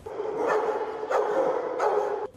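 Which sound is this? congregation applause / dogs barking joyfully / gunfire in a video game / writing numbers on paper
dogs barking joyfully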